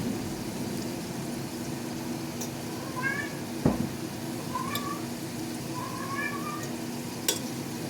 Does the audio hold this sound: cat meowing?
yes